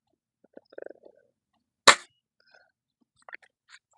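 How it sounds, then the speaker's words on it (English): A single sharp crack from a Stoeger S3000C air rifle firing a pellet at a pellet trap on a telephone pole in sub-zero winter, close and alone, with faint quiet sounds before and after. "Let's shoot another one at that pellet trap right there on the telephone pole."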